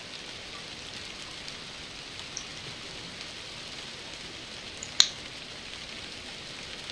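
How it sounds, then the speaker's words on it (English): Rain in the video game DrizzlePath falls as a steady, even hiss throughout, with one brief sharp tick partway through; no thunder stands out. "It's just us and the rain and thunder."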